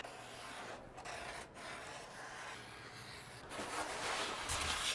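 Pencil or marker rubbing and scraping along a wooden subfloor panel while tracing an outline for an AWD Sprinter camper van, a steady close scratchy drawing sound that grows louder toward the end.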